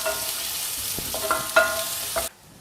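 Garlic and ginger sizzle steadily in a hot pan for palak paneer, with occasional stirring scrapes, then the sound cuts off abruptly.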